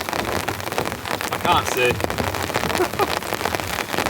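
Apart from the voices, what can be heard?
rain falling on a tent tarp while camping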